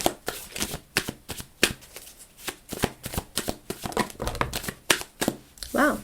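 Tarot cards shuffled and flipped over by hand, a rapid run of crisp slapping and riffling snaps close up, with a brief voice near the end.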